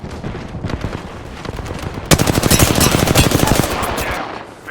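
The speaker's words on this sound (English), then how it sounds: "Stand back, knuckle cluster's firing." Knuckle Cluster fire in the Apex Legends video game: a rapid, loud burst of dense crackling pops that starts abruptly midway and runs on for about two seconds, over quieter scattered shots and game noise beforehand.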